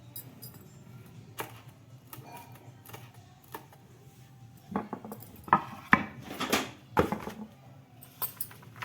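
A knife chops spinach finely on a board, producing irregular close taps and thuds that grow busier and louder partway through, with no talking.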